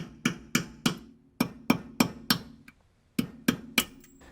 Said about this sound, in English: Now take a chisel and hammer that race outwards.